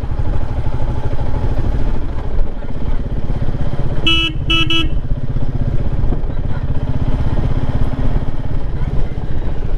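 A motorcycle engine runs loud and close, idling with a steady low rumble while a horn gives two short toots midway before the bike is parked near Dagara sea beach.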